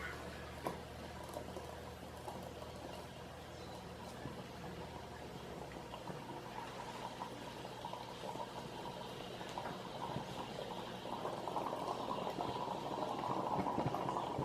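A homemade alcohol stove built from a can hisses and roars steadily as it pressurizes and its burner jets light, the rushing, boiling-like noise growing gradually louder and fuller toward the end, with no talking.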